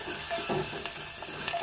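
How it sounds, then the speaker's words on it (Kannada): Onion sizzling and frying in oil in a pan for a Mangalore-style tilisaru, a steady crackling hiss with a few light stirring scrapes, close and alone. "ಈರುಳ್ಳಿ ಚೆನ್ನಾಗಿ ಎಣ್ಣೆಯಲ್ಲೇ ಬಾಡಬೇಕು."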